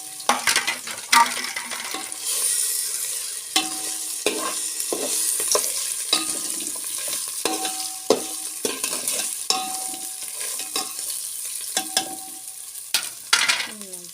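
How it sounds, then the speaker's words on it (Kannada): Roasted vermicelli stirred and fried in a hot pan for sweet milk kheer, a steady sizzle broken by repeated scraping strokes of a spoon against the pan, close and fairly loud with no talking. "ಈಗ ಇದಕ್ಕೆ ಹುರಿದಿಟ್ಕೊಂಡಂಥ ಶಾವಿಗೆ ಹಾಕ್ತೀನಿ."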